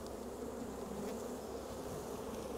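Honey bees being poured into a jar give off a continuous, even buzzing hum, faint but steady throughout with no voices.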